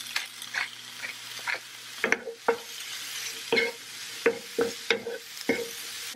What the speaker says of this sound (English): Mushrooms are starting to brown and cook down.